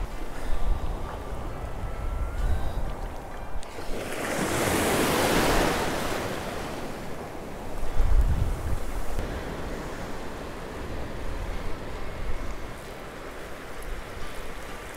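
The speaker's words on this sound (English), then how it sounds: "The water is really, really nice today. It's not bad surf at all." Calm ocean surf rolls onto a beach where people are camping and fishing, with one fuller wave washing in near the middle and another later, over steady wind buffeting the microphone; no one speaks.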